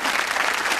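Studio audience applauding, a dense burst of clapping from a crowd that fills the room, loud and unbroken.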